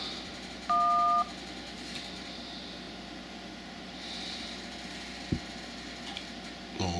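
A mobile phone placing a call gives one short, clear dialing tone that lasts about half a second, then quiet electronic hiss continues with a faint click later.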